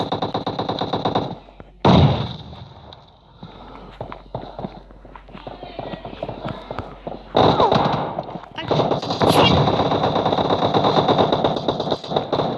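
PUBG Mobile gunfire, bursts of automatic shots and single cracks in separate loud bursts with quieter gaps and footsteps between them, heard under excited voices talking.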